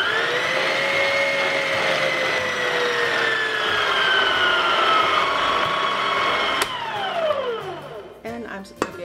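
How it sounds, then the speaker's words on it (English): A stand mixer works a dough of milk, yeast and flour for a Danish kringle pastry. Its motor gives a loud, steady whine that slowly drifts in pitch, then winds down with clattering near the end. "I take about 1/2 of the flour and let the machine mix it."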